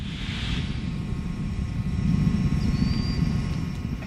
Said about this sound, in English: Discovery's 3 main engines throttle back up